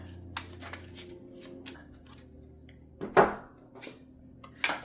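A deck of MECCG playing cards being shuffled by hand, with soft riffling and a few sharp card snaps and slaps, close and fairly quiet, with no talk.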